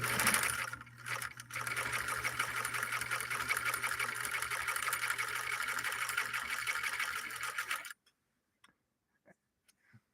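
A 1958 Husqvarna Viking Type 21 sewing machine runs a straight stitch with a steady, fast mechanical whir and ticking needle rhythm for several seconds, then stops abruptly, leaving near silence with a few faint clicks.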